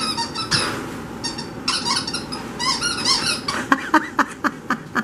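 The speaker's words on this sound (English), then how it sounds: "That squeaky toy." French Bulldog puppy playing alone with a squeaky toy, giving repeated sharp squeaks that grow more rhythmic and pronounced toward the end, close by with rustling and faint background noise.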